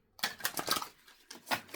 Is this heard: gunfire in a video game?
no